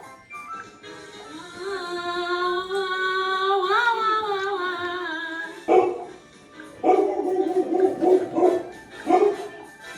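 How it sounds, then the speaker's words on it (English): A pet dog named Archer whines in long rising and falling cries, then breaks into several loud, close barks and yelps in a home during an online class. "my dog won't stop whining"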